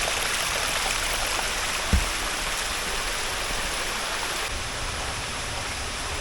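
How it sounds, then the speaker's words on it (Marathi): Stream water flows beneath a bridge near a small waterfall on Baronda Devi hill, heading down toward Papadkhind dam; a steady broadband rush fills the scene, with one brief thump near two seconds. "मी पुलाच्या खाली आहे या, आणि इकडून पाणी खाली जातं पापडखिंड डॅमवर"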